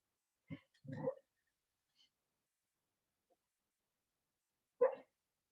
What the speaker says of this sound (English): Can hear my puppy barking in her sleep.